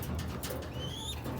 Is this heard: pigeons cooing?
yes